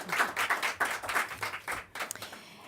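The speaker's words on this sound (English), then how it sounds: "Let's give our candidates a big round of applause for thinking fast on their feet." Applause from a candidate forum audience for the school district candidates, a burst of clapping with uneven swells that thins out near the end.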